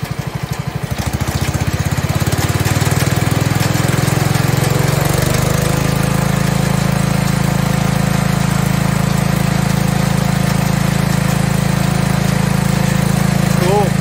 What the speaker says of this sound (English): Let's see how fast that tiller